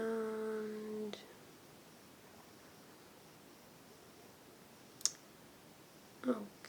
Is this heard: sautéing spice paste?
no